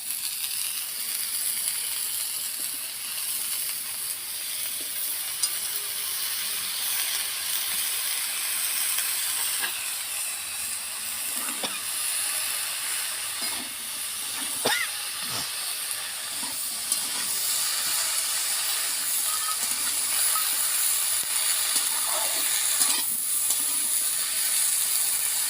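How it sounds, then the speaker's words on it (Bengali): Pumpkin greens and potatoes fry in a pan with a continuous hiss and sizzle, steady and close throughout, with faint occasional clinks. "এবারে আমি এই যে কুমড়ো শাকগুলো দিয়ে দেব।"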